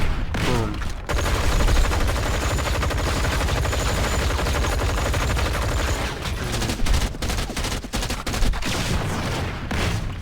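Rapid magnum gunfire from the Punisher in the Marvel Heroes video game, a dense, continuous barrage of loud shots running almost unbroken throughout, with a brief lull near the start.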